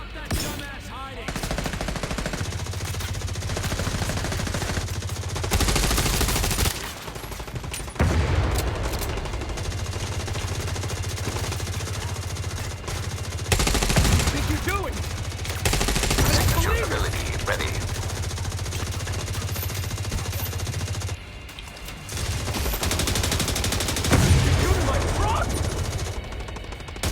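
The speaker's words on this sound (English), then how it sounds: "God damn, this gun is loud!" Loud automatic gunfire from a heavy gun in the mobile shooter The Division Resurgence, sustained bursts rattling across most of the stretch with brief pauses between volleys, game music and effects underneath.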